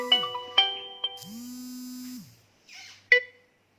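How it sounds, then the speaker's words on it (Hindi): A mobile phone rings with a short electronic ringtone of tonal beeps and a sustained buzzy tone, followed by a brief noise burst and a final sharp chime, alone without talk. "फोन आ जाता है"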